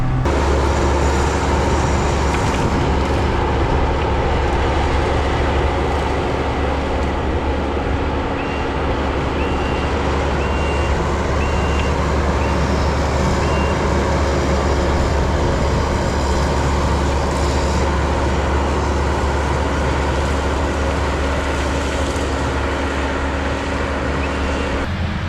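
A Kubota skid steer works through invasive brush to clear pasture, its engine a loud, unbroken diesel drone with a steady low throb that runs throughout.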